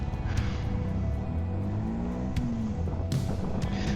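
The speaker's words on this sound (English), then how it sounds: "coming up to a junction, blipping the throttle like some kind of MotoGP rider" Honda Monkey motorcycle approaching a junction with the throttle blipped, the small engine's note rising and falling in a couple of quick revs, heard close under wind noise, with no one talking.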